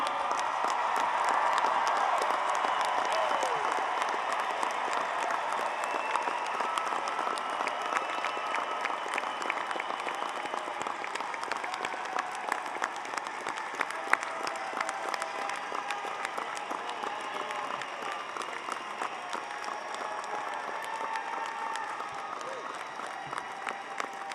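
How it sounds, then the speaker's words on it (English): A large crowd gives sustained applause for graduates at an undergraduate commencement ceremony in 2024. Dense clapping with a few scattered cheers continues at an even, loud level for the whole stretch, gently easing off toward the end. "join me in a final round of applause for all of the outstanding graduates of Ramapo's class of 2024"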